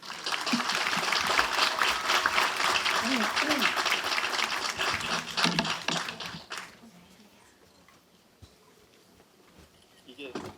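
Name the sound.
audience applause welcoming a presenter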